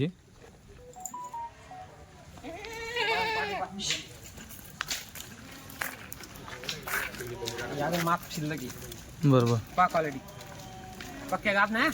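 Kathiawadi goats bleating repeatedly at a goat sale, several wavering calls near and loud, mixed with someone talking, shuffling and background crowd noise.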